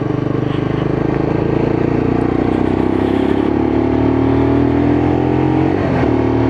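A Lexmoto LXR SE motorcycle engine drones loudly and steadily on a test ride, its pitch rising gradually and then dropping near the end, with heavy wind rumble throughout.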